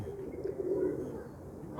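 Tagray pigeons, a fancy breed kept in a loft, give low, steady cooing that swells and fades through the clip, close by and moderately loud, with no talk over it.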